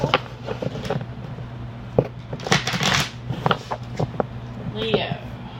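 A deck of tarot cards being shuffled by hand, a series of close, crisp riffling snaps and flutters in irregular bursts, with low background noise throughout.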